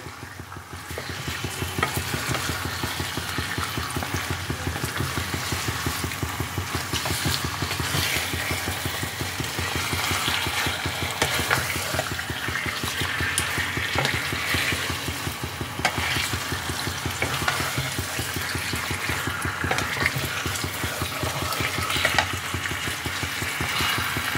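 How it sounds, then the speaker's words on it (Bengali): Chicken pieces being stirred and mixed with spices in a hot pan for methi chicken, a steady sizzle and frying hiss with continuous scraping and stirring, close and fairly loud throughout, no voices. "চিকেনটাকে মশলার সাথে ভালোভাবে প্রথমে মিশিয়ে নিতে হবে"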